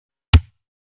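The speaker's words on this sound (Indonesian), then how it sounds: "Kemudian ketuk kick." A single dry kick drum hit from a real acoustic drum kit lands with a sharp attack and a short boomy tail, isolated in silence.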